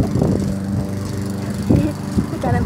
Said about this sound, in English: Somebody's mowing the lawn.